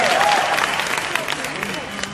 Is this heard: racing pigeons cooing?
no